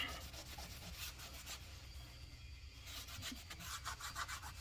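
Steady close rubbing of sandpaper over chipped paint on a Chevy Rally steel wheel, a continuous rasping scrub with repeated back-and-forth strokes and a brief lull midway.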